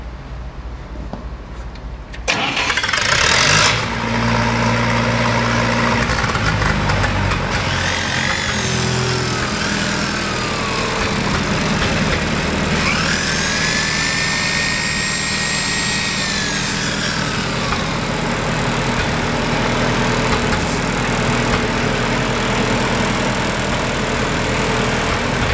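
A Miller Big 40 stick arc welder generator with a Continental gasoline engine starts after a couple of seconds, then runs at a loud, steady, close drone for the rest of the clip, with no voices.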